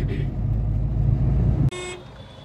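Street traffic in Agra near metro construction, with a loud rumbling engine drone up close and then a short car horn honk.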